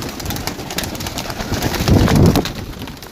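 A large flock of pigeons on a rooftop, a close, dense rustle of wingbeats and shuffling with soft coos, swelling louder for a moment toward the end.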